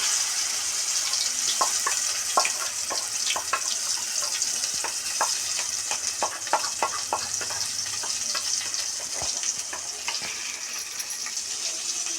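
Ground masala paste frying in a pan for fish curry, a steady close sizzle with scattered crackles and pops throughout, no voices.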